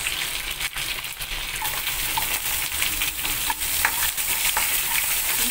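Chopped onions sizzle steadily in hot oil in a pan as they are sautéed, with soft scraping and clinks from a spoon stirring through them, loud and close without any talk.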